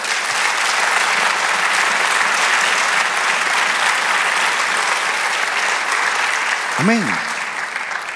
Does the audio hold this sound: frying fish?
no